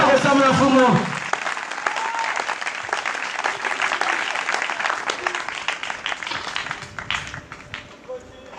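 A church congregation bursts into loud sustained applause that fills the room, continuing as a dense crowd clatter; a voice speaks over it at the very start.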